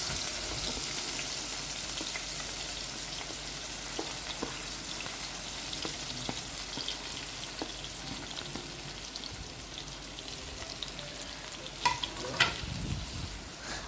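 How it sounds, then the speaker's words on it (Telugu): Chopped onions and green chillies fry in a pan with a steady, gentle sizzle and crackle, quiet and close, with occasional scrapes and a few louder clatters near the end, no voices. "తరిగి పెట్టుకున్న ఉల్లిపాయలు, పచ్చిమిరపకాయలు 2 కలిపి వేసుకొని బాగా దోరగా వేయించుకోవాలి"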